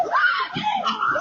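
A woman screams outdoors, a sustained high wavering shriek that rises and falls across the moment, loud and close.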